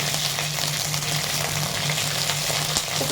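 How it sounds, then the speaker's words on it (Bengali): Cauliflower florets fry in hot oil for a cauliflower roast, a loud, dense, continuous sizzle, close up and steady throughout. "তেল দিয়ে ভালো করে ভেজে নিচ্ছি"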